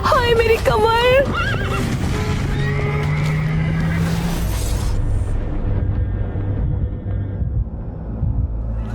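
A cartoon horse lets out a loud, close whinny that rises and falls in pitch, followed by clattering crash sounds and a low rumble fading into quieter background noise.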